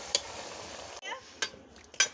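Vegetables and green chili-garlic paste for aloo palak are stirred in a pan, giving a few soft scraping strokes over a faint sizzle.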